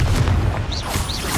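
A Confringo spell blast in Hogwarts Legacy, a loud booming burst with rumbling low end and brief whooshing swirls layered over the impact.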